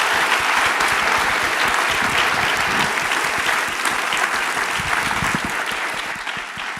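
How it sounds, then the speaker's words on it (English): Sustained audience applause following an economics keynote talk at the ECINEQ 2025 conference, dense steady clapping from a large crowd that holds loud throughout and tapers slightly at the end. "let's give a big round of applause to our speaker"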